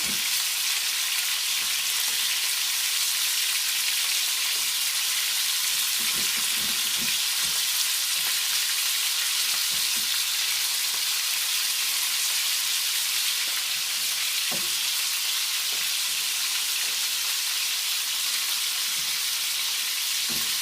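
Salt fish shallow frying in oil for a makayabu stew, giving a steady, close hiss and crackle of sizzling that runs unbroken throughout, with a few louder pops and spatters and no voices.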